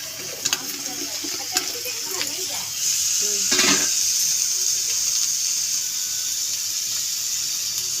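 Masala and tomatoes fry in a pan, giving a steady close sizzle with occasional stirring scrapes and a louder burst midway, while a voice talks intermittently.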